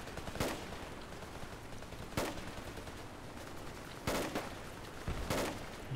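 Suppressive gunfire in Project Reality 1.0 on the Burning Sands map, four separate sharp shots at uneven intervals, moderately distant, with quiet background ambience between them.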